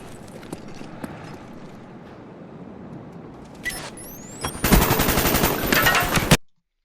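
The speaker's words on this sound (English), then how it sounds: "So, gunfire to the right." Gunfire in a capture-the-flag match of a video game: scattered shots build into loud, rapid automatic bursts near the end before cutting off abruptly.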